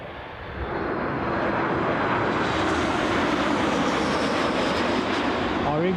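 A Loganair Embraer 145 jet at Newcastle airport gives off a steady, loud engine roar that swells in the first second and then holds, with faint talk underneath.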